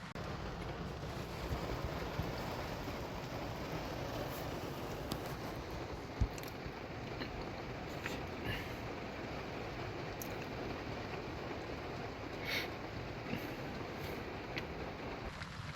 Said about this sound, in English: that's about all you can do when the rain's blowing in